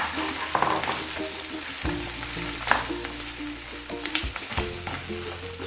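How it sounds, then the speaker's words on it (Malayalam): Mutton pieces frying in hot butter and oil, a steady close sizzle with intermittent stirring and scraping clatters, no voices. "ബട്ടർ ചൂടായി. അതിലേക്ക് ഇറച്ചി കഷ്ണം ഒന്ന് ചേർത്ത്"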